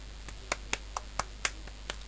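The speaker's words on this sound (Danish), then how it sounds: "Jeg synes lige, at vi alle sammen skal klappe" A few people applauding award winners at a small ceremony, scattered sparse claps spaced irregularly over about two seconds, fairly quiet and close with no voices.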